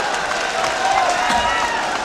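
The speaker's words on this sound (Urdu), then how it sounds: "ایک بار اور تالیاں بجاتے میرے لیے" Audience clapping and cheering at a live Urdu poetry recital, a dense steady wash of applause lasting about two seconds with a faint voice or crowd murmur blended underneath.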